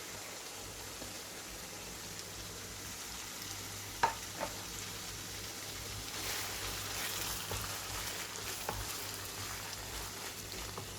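Chopped onions sizzle steadily in a hot frying pan with garlic, a soft continuous crackle with a couple of faint clicks and no talking.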